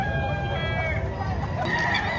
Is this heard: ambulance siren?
no